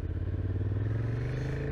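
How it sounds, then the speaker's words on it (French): A motorcycle engine fitted with a small aftermarket exhaust idles and runs steadily at close range, its rumbling beat pulsing evenly throughout with no voices. "Par contre, ce qui est cool, c'est qu'il y a un petit échappement."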